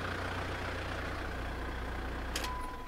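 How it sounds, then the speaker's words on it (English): A 1999 Mitsubishi Delica Space Gear turbo diesel, warm and at operating temperature, idles with a steady low rumble, fairly quiet and even throughout, with a brief higher click near the end. "It is a little bit of a noisy vehicle, so I'm going to turn the engine off here."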